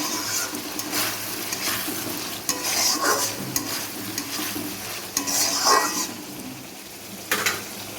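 Spiced potatoes for cabbage curry sauté with a steady sizzle, broken by repeated spatula stirs and scrapes that come in uneven bursts, close and moderately loud.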